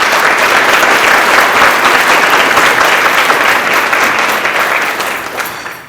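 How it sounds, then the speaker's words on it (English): Sustained applause from a luncheon audience at a Chamber of Commerce congressional lunch, steady dense clapping for about six seconds before easing off at the end. "How about a round of applause?"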